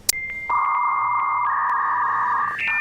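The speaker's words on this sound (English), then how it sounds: "the laugh track would be the dial-up tone that you used to hear when you connected to the internet in the 90s" Dial-up internet modem tone sound effect in Star Wars Battlefront 2: a loud, steady electronic tone holds for about two seconds, steps up in pitch, and ends with short beeps, with no talk.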